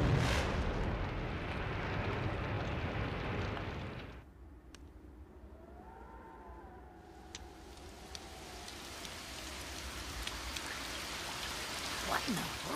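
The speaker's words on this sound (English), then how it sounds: "It's raining." Dense, hissing rainfall pours down at first, then cuts off abruptly, leaving quieter patter, scattered drips and faint sounds in the background, in an animated film set in wartime Hiroshima.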